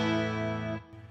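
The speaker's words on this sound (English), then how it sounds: "as you go from 1 to 4, you get a more intense chorus effect" Sustained electric guitar chord through a chorus effect at setting number 3 of 4, rich and shimmering, ringing for under a second before being cut off, followed by a faint tail.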